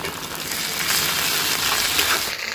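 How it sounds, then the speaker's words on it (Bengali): Ginger paste hits chopped onions already frying with bay leaf and a little salt, setting off a loud, steady sizzle that holds close and unbroken throughout. "এবার দিয়ে দেবো আদা বাটা।"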